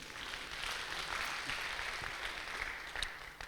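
Church congregation clapping during a Christian family enterprise teaching, a soft, distant, sustained patter of many hands with no speech over it.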